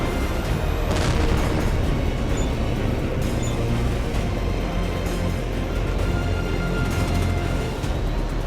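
Missile launch in the jet combat game Tom Clancy's HAWX 2, a loud sustained roar with a deep rumbling boom and steady engine wash throughout, no speech.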